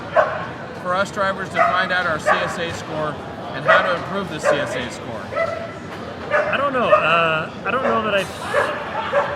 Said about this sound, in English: If you hear the dog barking, I apologize.